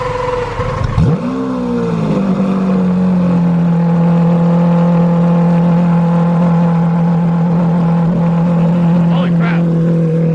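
A Lamborghini Aventador engine fires up with a sharp revving burst, then settles into a loud, steady, deep idle drone heard close up.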